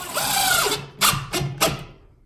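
Power drill driving screws into drywall while patching a hole, a sustained whirring run followed by three short sharp bursts as the screws are set, close and fairly loud with no talking.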